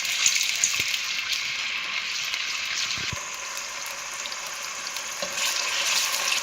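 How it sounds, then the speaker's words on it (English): Chopped onions sautéing in oil for Nigerian okra soup, a steady bright sizzle with a few soft knocks of a spoon against the pan, no voices. "We've allowed the onions to saute."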